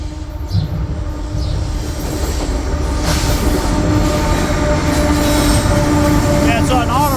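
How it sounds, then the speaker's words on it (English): A long CN auto rack freight train rumbles past close by in Durand, steady rolling clatter of railcars with metallic wheel squeals rising near the end. "Yeah, it's an auto rack train."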